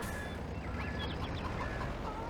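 Chickens in a coop in the video game Farming Simulator 22, with steady soft clucking over a dense, constant farmyard background hum, continuous and moderately quiet, without talking.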